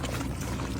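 Apple cider vinegar poured into a pot of collard greens cooking on the stove, a short, steady splash of liquid heard close up.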